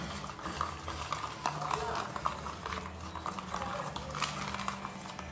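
A sugar hair-treatment mixture being stirred in a bowl, soft repeated scraping and clinking strokes under continuous close talk in Portuguese.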